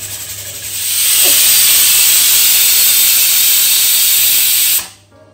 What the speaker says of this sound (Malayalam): രണ്ടാമത്തെ വിസിലും വന്നു, ഓഫാക്കിട്ടു.